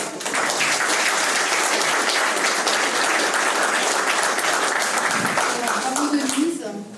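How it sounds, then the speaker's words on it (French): Loud, sustained applause from an audience at an award ceremony, many hands clapping in a dense, even roar that fades out at the end, with a voice just starting to speak as it dies down. "donc je crois qu'on peut encore l'applaudir"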